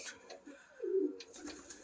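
A pigeon gives a soft, low, rolling coo in a pigeon loft, one clear call near the middle over quiet background rustle.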